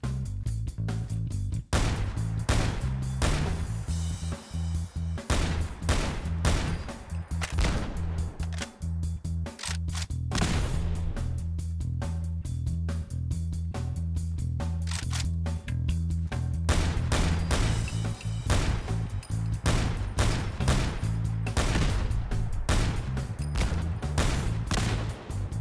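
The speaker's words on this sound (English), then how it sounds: "I'm going to be firing the MK14 at these defenseless gasoline canisters in first person and third person view." Repeated rifle shots from an MK14 in Fallout 4 strike gasoline canisters, with sharp broadband cracks in rapid bursts and pauses over a steady low in-game hum.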